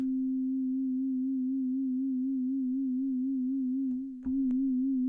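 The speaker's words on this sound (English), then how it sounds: "So if we bring up the level of LFO1 now, we'll get this sine wave." A steady, pure sine-wave synth tone from the NanoStudio 2 Obsidian synth on iPad hums with a gentle, regular LFO wobble in pitch, briefly interrupted by a small click before continuing.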